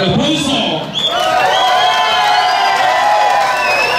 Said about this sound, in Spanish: regálenme el aplauso.